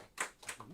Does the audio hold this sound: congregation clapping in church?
yes